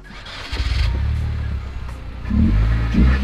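A 2.0 liter car engine revs up hard, a steady loud roar that swells again near the end, close by with no talk over it.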